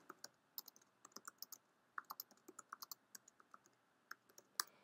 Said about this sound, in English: I just type that right here